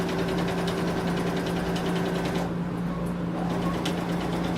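A sewing machine stitches continuously with a fast, even mechanical chatter and a steady motor hum, pausing briefly before running on.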